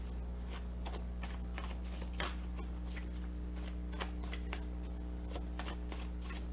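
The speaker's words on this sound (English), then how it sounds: "I'm going to try to shuffle it really good before a card does pop out." Tarot cards being shuffled in a steady run of crisp riffling slaps, close and fairly loud, with a constant low hum underneath and no talk.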